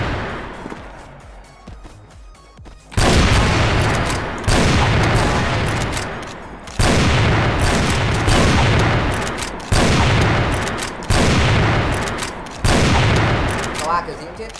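In a CrossFire online shooter, loud gunfire comes in repeated heavy bursts after a quieter opening, with about five sustained volleys separated by brief pauses and some talking mixed in.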